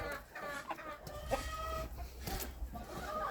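Hens in a chicken coop clucking near and busy, with repeated overlapping clucks and short calls, including Australorp and bantam birds, over low rustling and no speech.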